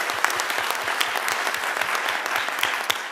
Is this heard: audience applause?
yes